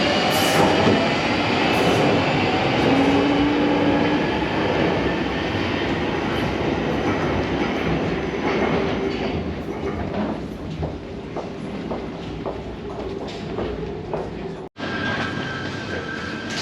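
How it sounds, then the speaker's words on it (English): A London Underground train from Morden pulls out of Elephant & Castle station, with a loud rumbling roar, squealing wheels and rhythmic clicks fading slowly as it departs, then a steady, quieter platform hum. "Got the train from Morden leaving."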